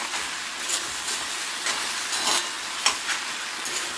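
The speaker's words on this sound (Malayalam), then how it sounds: "എന്നിട്ട് നന്നായിട്ട് ഇളക്കി കൊടുക്കുക." Ivy gourd roast being stirred in a pan after tamarind water is added, a steady soft sizzle with faint scraping strokes of the spoon, close and even.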